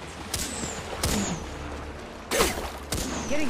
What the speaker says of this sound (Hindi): अरे रे रे रे शॉट्स पड़ रहे हैं